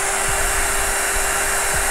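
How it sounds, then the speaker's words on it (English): A blow dryer blows on a synthetic wig with a loud, steady, close whoosh and motor hum, constant throughout with no voices. "you're going to put your blow dryer right there."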